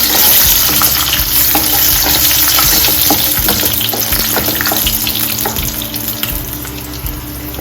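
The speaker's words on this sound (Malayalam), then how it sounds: "ഞാൻ ആദ്യം ഇതിനകത്ത് നട്ട്സ് ആണ് ഇടുന്നത്. കാഷ്യൂ നട്ടും അതുപോലെ തന്നെ നമ്മുടെ കോക്കനട്ട് തേങ്ങയുണ്ട്." Cashew nuts and grated coconut frying in hot coconut oil in a pan, a loud steady sizzle with stirring scrapes and clinks running throughout, no voices.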